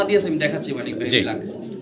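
Pigeons coo softly in a breeding loft, low murmuring calls mixed under a voice talking close by.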